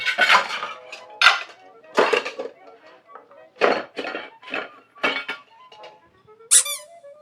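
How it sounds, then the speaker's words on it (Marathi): Soapy pots and utensils are scrubbed by hand in a series of loud squeaky rubbing bursts, with clinks of metal dishware between strokes. "भांड्याला साबण लाव"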